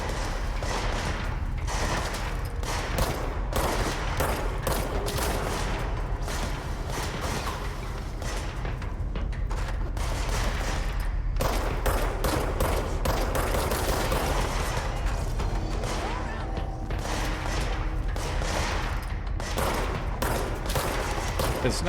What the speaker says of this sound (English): Stop shooting the friend.